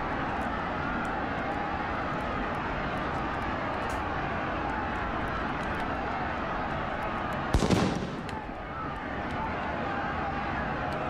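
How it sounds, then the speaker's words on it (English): A smoke grenade goes off in RIOT - Civil Unrest, a single hissing burst rising out of a dense, constant roar of rioting crowd noise and then fading back into the din. "that's a smoke grenade"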